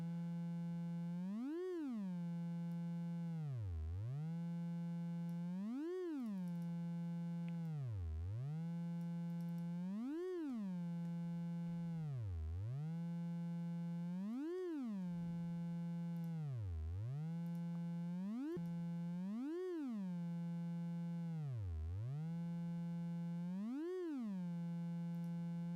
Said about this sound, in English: So we're getting somewhat of a riser sound.